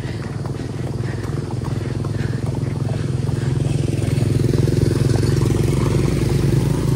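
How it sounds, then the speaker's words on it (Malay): A motorcycle rides along at a steady pace, its mid-pitched engine chugging in a rapid, even pulse that grows slightly louder and nearer over the seconds, with rattling clatter underneath. "Kita bagi motor jalan dulu kejap."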